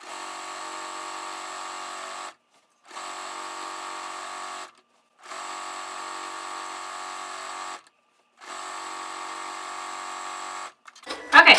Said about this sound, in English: So my machine, it goes pretty slow for the wavy stitch. That was as fast as it will go.